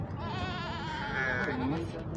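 A sheep bleats with a wavering, drawn-out cry close by at an animal market in Torbalı, İzmir, over a background of other animal noise and murmuring voices.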